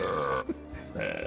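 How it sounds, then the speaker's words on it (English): Cartoonish Kremlings burp musical notes in the Donkey Kong 64 video game, two long pitched burps separated by a short gap, close and clear. "You play a keyboard and these guys come out and burp the notes."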